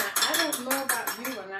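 Egg wash being whisked in a dish for coating flounder, a quick run of rhythmic clinks and scrapes of utensil against dish, close and fairly loud, with no talking.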